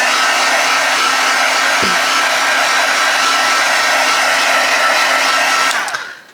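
Hair dryer blowing on a thin layer of white paint on a card, a loud steady close-up whooshing roar that runs without a break and then winds down and cuts off at the end.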